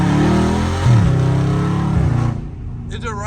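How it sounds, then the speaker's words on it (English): A catless Dodge Charger Scat Pack in track mode drops to second gear, its exhaust roaring and burbling loudly close by before cutting off abruptly, with someone talking briefly at the end. "Like just listen to the second gear downshift."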